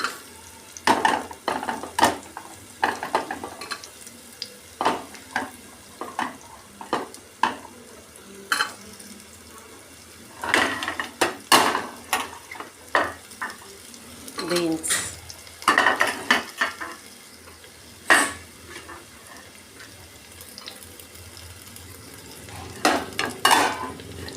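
Carrot and potato being mixed in a pan, repeated clattering spatula strokes and scrapes against the metal in irregular bursts over a low frying sizzle.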